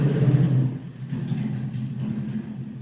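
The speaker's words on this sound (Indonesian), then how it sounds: "ada suara motor" A motorbike engine passing by, a loud rumbling drone that swells and then eases into a steady, slightly fading hum with no talk.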